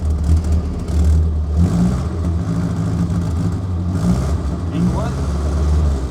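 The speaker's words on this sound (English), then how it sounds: "engine runs, doesn't charge" A 1972 Austin van engine runs with a steady low idle and a couple of rising revs, close by and loud, with people talking over it.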